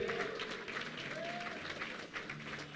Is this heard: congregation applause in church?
yes